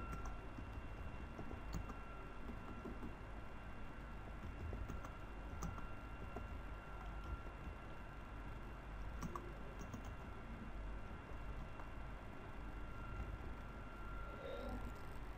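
Computer keyboard typing while HTML code is written, faint scattered key clicks coming in loose clusters over a low room hum, alone with no talking.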